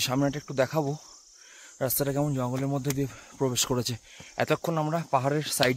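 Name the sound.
crickets chirping in mountain forest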